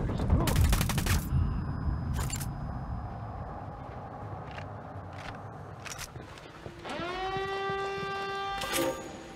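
Gunfire rings out in the Ghost Recon Wildlands video game: a sharp burst of rapid shots up front, then scattered single cracks, followed by a rising electronic tone and one more burst near the end.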